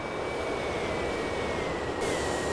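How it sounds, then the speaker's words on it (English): In Train Simulator 22, a train passes the other way on the Western main line as a steady, loud rushing roar with a faint high whine running through it. "Well, that was a train going the other way."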